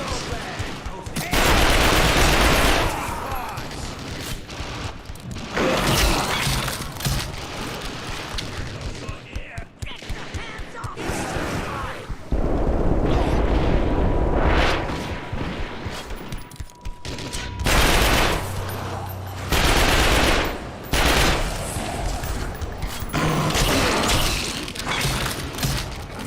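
Loud bursts of automatic gunfire in the shooter The Darkness II come in repeated volleys with glass shattering and crashing impacts, separated by brief quieter gaps, and a voice speaks intermittently.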